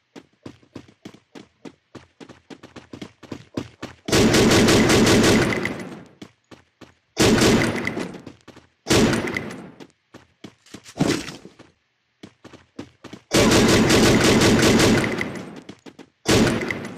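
Gunfire in the video game Free Fire: rapid, evenly spaced single shots, then several long, loud bursts of automatic fire, separated by short pauses.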